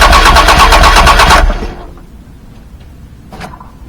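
A Dodge Daytona 4WD engine with a power steering pump problem cranks over with the ignition off, a loud, steady rhythmic churning that stops abruptly after about a second and a half, leaving quiet with a faint click.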